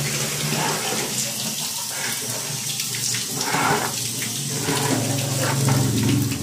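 Tap water pours steadily into a container, a continuous splashing gush that stays loud and even for several seconds, its tone shifting slightly as the vessel fills.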